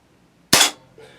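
A single sharp crack from an Umarex Smith & Wesson Model 586 air revolver fired at 6 yards, close and loud, dropping quickly into quiet with a faint sound just after.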